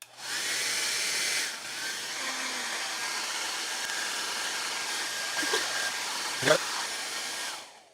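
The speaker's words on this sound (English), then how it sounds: "Let's shoot the hair dryer on it." A small hair dryer powered through an extension cord blows with a loud, steady airy whir from the start, then drops to a lower setting and keeps running evenly, with a brief clunk of handling near the end before it shuts off.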